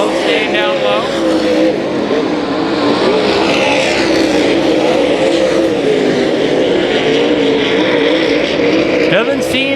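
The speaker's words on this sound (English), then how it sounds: "These late models are flying around this 3/8 mile." Late model race cars roar around a 3/8 mile oval track, their engines droning loudly and shifting in pitch as the cars pass, with a race announcer talking over the noise throughout.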